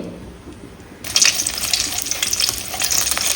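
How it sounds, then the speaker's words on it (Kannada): Red chilies frying in a generous amount of hot oil for a brinjal kuzhambu. After a second of near silence, a loud, bright sizzle bursts in and keeps crackling steadily to the end, with no voices. "ಎಣ್ಣೆಯಲ್ಲಿ ಮೆಣಸು ಉಬ್ಬುವಾಗ"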